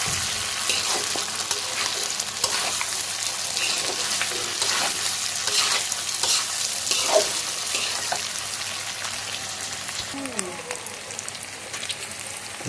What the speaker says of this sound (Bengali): এখন কিন্তু প্রায় কষানিটা হয়ে যাচ্ছে মাংসটা